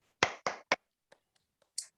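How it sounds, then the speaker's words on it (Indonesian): Three quick, loud hand claps in a steady rhythm open a spirit-clap routine for a fourth-grade class. A few faint taps follow, then one last sharp clap, all in a quiet room with no talking. "Yuk, tepuk semangat."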